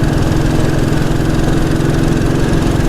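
A Royal Enfield Bullet 350 single-cylinder motorcycle engine runs steadily, loud and close, with an even low thumping beat and a constant mechanical drone, with no talk over it.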